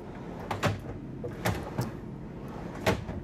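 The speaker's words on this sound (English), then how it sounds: "pull out drawers." Pull-out drawers inside a 2024 Renegade XL 45QS RV slide and thump shut, producing four distinct knocks and rattles spaced irregularly over a few seconds against a quiet room hum.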